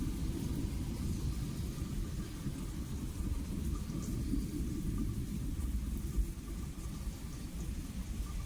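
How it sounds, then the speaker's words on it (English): Low thunder rumbles continuously through a steady wash of rain during a Kentucky storm, with no voices heard. "Oh, thunder."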